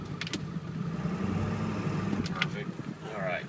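A vehicle engine idles steadily while the transmission is shifted from drive to reverse, with a low continuous rumble and a few brief clunks; someone talks over it.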